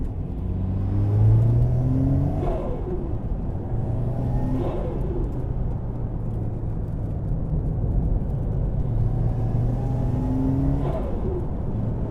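A turbocharged Toyota AE86 engine revs up in repeated rising pulls at Sodegaura circuit, with a whistling, spooling turbo whine over a steady low rumble of road and exhaust noise.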